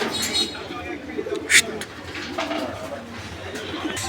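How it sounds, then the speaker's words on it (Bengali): A Danish pigeon coos in a short soft burst, close by, amid a murmur of background chatter and other birds. "এই মুহূর্তে আমরা দেখতে পাচ্ছি এখানে একটা সিঙ্গেল কবুতর"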